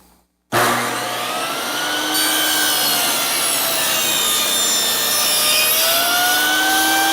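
A saw rasps steadily through clamped wood being cut for a tapered furniture leg, starting abruptly after a brief silence and continuing as a loud, close, sustained grinding cut.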